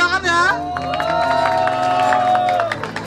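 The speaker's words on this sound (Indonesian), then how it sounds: "Tepuk tangan woi." A crowd at an outdoor vape meet claps and cheers on cue for a contestant, a dense, loud burst of applause with scattered shouts, while a sustained musical tone or voice rings over it throughout.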